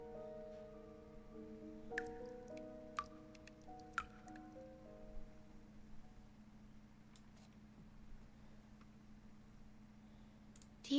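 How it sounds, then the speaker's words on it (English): Water dripping in a motel room, a few isolated drops landing at uneven intervals, faint and close, over a low steady hum and a quiet room tone. "Sounds like dripping water."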